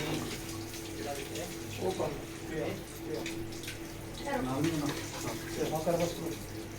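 Water poured as an offering during a Shiva puja on Shivaratri at Raghunath Ashram in Arnia, running and splashing in uneven bursts with fairly close, moderate pours.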